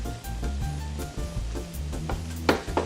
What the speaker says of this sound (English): Now those noodles have been in for about 2 minutes now, so give them a stir